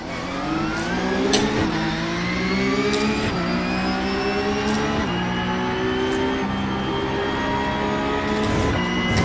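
A GT3 race car engine in the iRacing simulator revs and climbs through the gears, the pitch rising and dropping with each shift, loud and steady with no talking.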